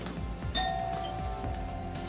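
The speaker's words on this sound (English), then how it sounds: "Did I hear a doorbell?" A doorbell chimes over a steady background hum, its bright tones ringing out once and lingering briefly.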